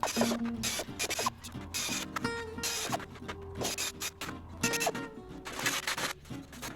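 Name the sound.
pneumatic nibbler cutting van body metal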